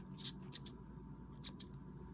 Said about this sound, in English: Then I'm going to take my scissors and just cut the loops